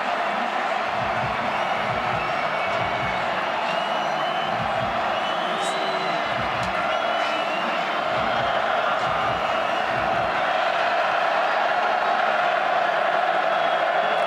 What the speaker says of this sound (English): Crowd has been loud throughout.